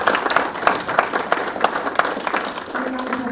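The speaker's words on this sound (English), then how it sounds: "can we have a round of applause for this?" Audience applause at a live forum event, a dense patter of hand claps filling the room at moderate loudness, steady throughout with a faint tone near the end.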